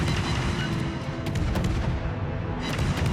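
Naval artillery shells fired and landing in a warship video game, with deep booming blasts and rumbling impacts rolling over each other continuously for three seconds.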